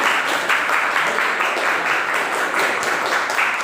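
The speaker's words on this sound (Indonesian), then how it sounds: "Beri tepuk tangan untuk kami." A class of children applauds together, dense steady clapping that holds evenly throughout without pause.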